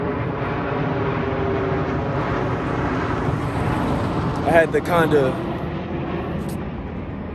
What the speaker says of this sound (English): Every time I record, it's an airplane